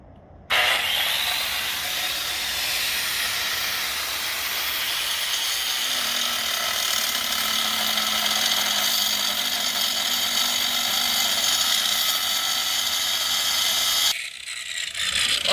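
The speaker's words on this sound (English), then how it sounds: "So we got a 7-inch rigid angle grinder, and we're going to try this out and cut these metal posts down." A RIDGID 7-inch angle grinder cuts through metal posts with a loud, steady high-pitched whine and grinding roar that holds for about fourteen seconds before cutting off abruptly, close up and without speech.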